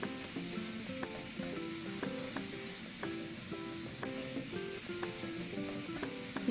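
Mixed vegetables for Bengali sukto fry in a pan with a soft, continuous sizzle that sits under a repeating melodic tune throughout.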